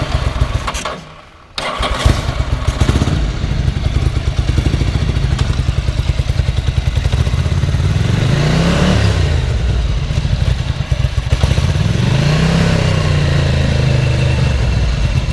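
A 1987 Ducati F1 750 motorcycle engine cranks, catches after a short pause and settles into a loud, throbbing idle, with two rising and falling throttle revs over the steady clattering rumble.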